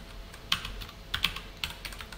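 Typing JavaScript code on a computer keyboard, a quiet run of key clicks with a few sharper louder strikes in irregular bursts, close and alone without talk.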